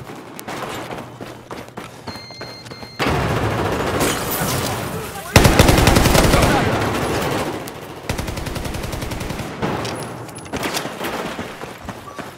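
UMP-9 submachine gun fire in Battlefield 4, repeated rapid automatic bursts with sharp loud onsets and a few brief pauses, quieter game ambience between them.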